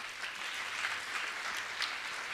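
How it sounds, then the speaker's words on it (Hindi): Quiet, distant clapping from a gathered audience at a Jain religious discourse, a soft continuous patter without voices. "तालियां लगातार बजती रहे, अच्छी बात।"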